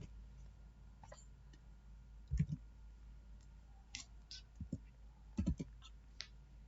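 Mouse clicks while moving through a vehicle registration renewal website, a few faint, sharp clicks spaced irregularly over a quiet background, with no talking.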